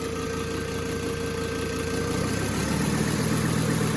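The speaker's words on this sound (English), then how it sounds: "This is below the idle set for the motor." A turbocharged car engine idles below its set idle speed, producing a continuous close low rumble with a faint tonal whine; the rough, uneven throb deepens slightly partway through.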